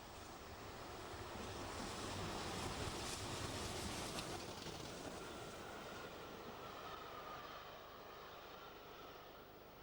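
A steam train approaching Canterbury on the Stour Valley line makes a continuous, broad rushing roar that holds steady throughout, like a train rumbling along the track nearby, swelling slightly in the middle before easing.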